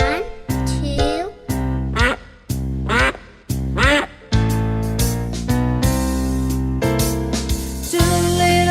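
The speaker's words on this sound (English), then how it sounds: "Mother duck said, "Quack, quack, quack,"" A duck quacks in a quick series of nasal calls, then gives way to bright sustained music from a children's nursery rhyme.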